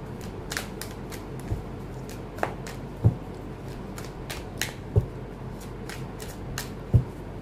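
Tarot cards riffled and shuffled by hand, with soft papery rustling throughout and a few sharp snaps and thumps as two or three cards fly out of the deck, close up and fairly quiet.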